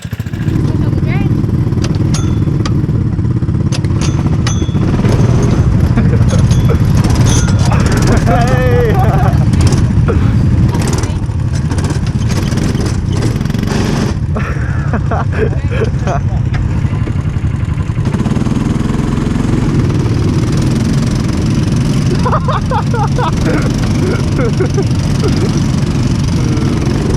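Go-kart engines run on a track during a formation lap, a loud steady buzzing drone that rises and falls throughout, with voices heard over the engine noise.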